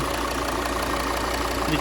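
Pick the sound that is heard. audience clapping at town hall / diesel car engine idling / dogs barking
diesel car engine idling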